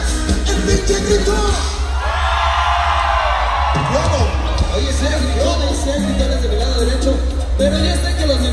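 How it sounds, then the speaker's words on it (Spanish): A crowd at a town fiesta in Tlaxiaco, Oaxaca lets out a loud collective cheer and shouting over steady music, with whoops and yells scattered throughout the roar. "quiero que me ayuden con el pinche grito bien fuerte a la cuenta de tres"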